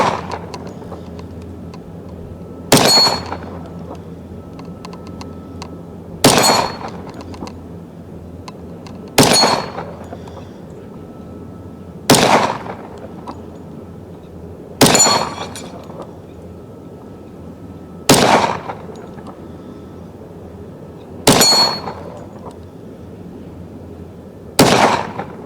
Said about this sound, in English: I'm just shooting the corners now.